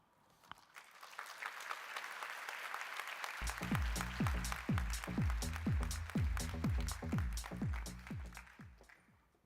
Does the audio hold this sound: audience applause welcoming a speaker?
yes